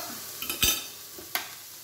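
Curry chicken pieces browning in a pan: a quiet, steady sizzle punctuated by two or three brief scraping stirs of a utensil, close and fairly soft.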